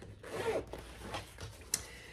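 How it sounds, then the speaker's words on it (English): Zipper pulls on a fabric bag case slid along their zippers, a few soft scraping rubs close by with a brief sharper click near the end, no talking. "Move all your zippers to the middle,"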